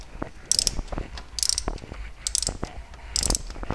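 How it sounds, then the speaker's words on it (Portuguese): A spark plug wrench turning iridium spark plugs on a Chevrolet engine, giving short bursts of metallic ratchet clicking in four separate spurts with quiet handling knocks between, close and clear, no talking. "Então a chave de velas, colocada aqui."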